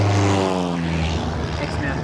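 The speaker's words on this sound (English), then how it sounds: "The spotter plane guides us to the shark." A spotter plane's propeller engine drones overhead above Ningaloo Reef, a steady buzzing hum with a pitch that slowly shifts as it passes, loud and close, with a voice briefly audible over it.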